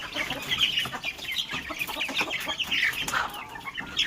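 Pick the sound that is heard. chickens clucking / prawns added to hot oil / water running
chickens clucking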